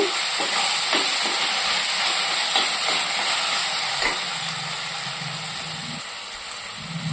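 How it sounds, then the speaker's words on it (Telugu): Ginger garlic paste fries in a pan over a medium flame for a tuna fish curry, giving a steady, close sizzle and hiss that runs throughout, with a few soft stirring knocks and no talking. "స్టవ్ మీడియం ఫ్లేమ్లో పెట్టుకొని ఫ్రై చేసుకోవాలండి"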